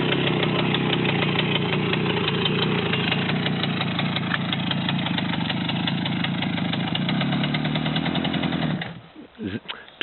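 A Romet motorcycle engine runs steadily during a first ride, a continuous mid-pitched drone that holds for most of the clip before cutting out abruptly near the end, followed by brief irregular rumbles.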